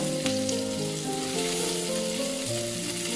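Prawns frying in oil on a tawa, a steady close sizzle running throughout with faint tonal hum in the background.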